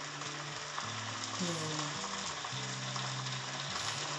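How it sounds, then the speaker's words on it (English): Steady, dense sizzling of bacon frying in a pan, with soft background music tones running underneath throughout. "There's something about the sound of bacon cooking."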